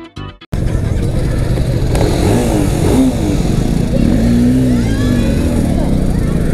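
A group of motorcycles rides through a village in India, with continuous loud engine drone and revving close by. Voices talk over the noise.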